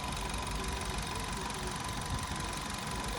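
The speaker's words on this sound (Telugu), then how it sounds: "ఇంజన్ మెత్తదనం చూడు ఎలా ఉందో." A Maruti Brezza engine idles after a carbon-cleaning treatment, giving an even, smooth hum with a faint steady vibration and no voices.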